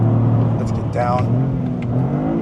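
Engine of a 2025 GR Corolla automatic revving on a track, with the pitch dropping as it shifts into second and then climbing again; the engine is loud and steady, and a voice speaks over it.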